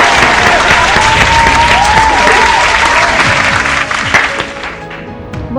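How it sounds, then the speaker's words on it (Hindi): An audience at an Independence Day poetry gathering claps loudly and steadily in a sustained burst of applause that thins out toward the end. "जोरदार तालियों से स्वागत करते हैं"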